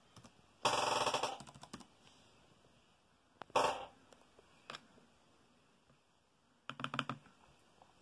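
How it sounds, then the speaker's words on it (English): Typing on the keyboard of an Acer Chromebook CB3-111 laptop, with a few short bursts of close key clatter separated by quiet pauses and isolated single clicks. "Now we're going to type in hello."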